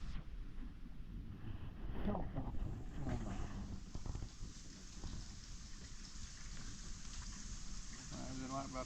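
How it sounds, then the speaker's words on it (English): Early-morning wind blows steadily in the Missouri hills at a public-land camp, a constant broadband rush with microphone buffeting and a few faint thumps. "the wind's blowing a little bit more today than it was"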